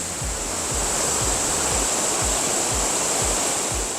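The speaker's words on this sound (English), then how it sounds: "Take a look at the waterfall!" Iguazu Falls on the Brazilian side roars as a loud, constant rush of falling water, broad and unbroken, with low thudding pulses beneath, likely wind buffeting.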